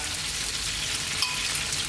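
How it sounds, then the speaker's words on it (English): Glazed pork ribs sizzle and crackle steadily in a hot pan with the heat switched off, a close, even frying hiss with occasional pops. "sizzling is from the heat of the pan, which as you can hear is going away now"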